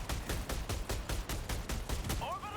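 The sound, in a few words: automaton turrets firing at bases in the video game Helldivers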